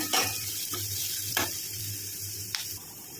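Palak curry ingredients sauté in a pan as they are stirred, a close, continuous sizzle broken by a few sharp scrapes and clinks of the spoon, with no voices.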